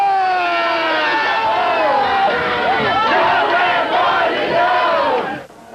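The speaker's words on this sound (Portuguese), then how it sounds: "Fomos ver como estava a comemoração dos torcedores gremistas" Grêmio football supporters celebrating in a city street, a dense crowd chanting and cheering loudly and continuously, with voices rising and falling throughout before the noise drops off sharply at the end.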